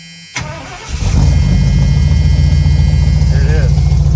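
A 1978 Ford F250 with a carbureted engine cranks briefly and then fires up on a cold start, settling into a loud, steady rumbling idle that fills the rest of the clip.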